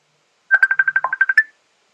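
A rapid run of about ten dual-tone dialing beeps from a telephone that is calling on its own, each tone short and evenly spaced, loud and close with no talk.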